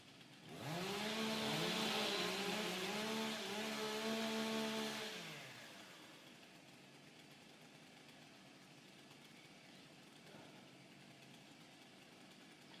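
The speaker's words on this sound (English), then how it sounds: "Warm up your saw." A stock saw chainsaw engine warms up before a women's timbersports race: a loud, steady revving drone for about five seconds, then it cuts out and leaves quiet background.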